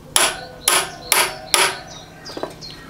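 One hammer strikes another in a workshop: four loud, sharp metallic blows spaced about half a second apart, each with a brief ring, followed by a couple of fainter taps.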